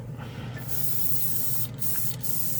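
A steady, loud spray hiss from a Gaahleri trigger airbrush flushing acetone runs throughout, with a couple of brief breaks in the airflow.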